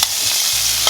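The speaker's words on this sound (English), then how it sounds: "The sizzle of the pot," Beef curry pelau sizzles in a pot on the stove in a kitchen in San Fernando, Trinidad, a close, steady hissing fry with a brief stir and scrape, heard alone without talk.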